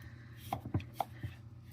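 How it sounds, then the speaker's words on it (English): Potatoes are diced with a knife on a cutting board, making about five close, crisp, uneven knocks against a quiet background. "while I'm dicing the potatoes"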